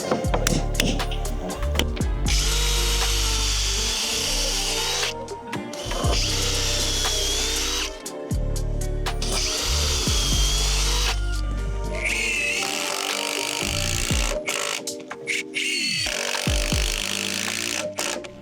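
Power drill boring holes through timber boardwalk boards, loud whining bursts of several seconds each separated by brief pauses, close up with ratcheting clutch clicks and no talking.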